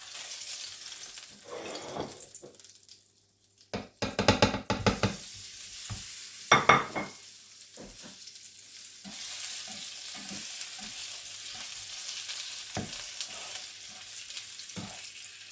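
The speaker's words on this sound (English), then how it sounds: "Now we're going to start frying our sausages." Sausages fry in a little oil on low heat, a soft steady sizzle with occasional stirring and clattering in between, close by and without talk.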